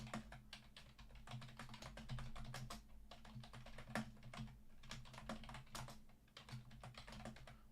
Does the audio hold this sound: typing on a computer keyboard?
yes